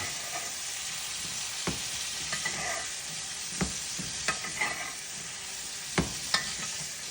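Ribeye steaks sizzle steadily in a hot pan with butter, garlic and rosemary as they are basted, a constant frying hiss broken by sharp spoon and pan clinks and scrapes, close and moderately loud with no talking.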